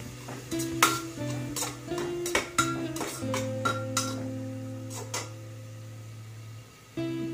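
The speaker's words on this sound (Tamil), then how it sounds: "அரைச்சதை அந்த சூடான எண்ணெயில் போட்டு நல்லா வதக்கிக்கிறோம்." Spoon scraping and clinking in a pan as ground garlic and ginger sauté in hot oil, with rhythmic stirring strokes over a steady low hum.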